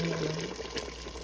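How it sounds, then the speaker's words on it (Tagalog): Hot water pours into a cooking pot of pork belly sinigang with onion and tomato, a brief, soft, steady splashing rush. "Lagyan natin ng mainit ng tubig guys"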